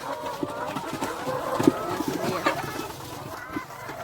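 Hens at a laying-hen farm in Laos cluck in short, scattered bursts at moderate distance, forming a busy, uneven chatter of fowl with occasional sharper calls standing out.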